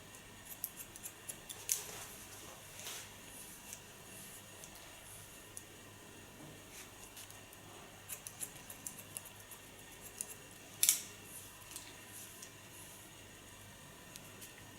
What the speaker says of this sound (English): So I take the hairs up, point cut in the underline, continue on the line of cutting.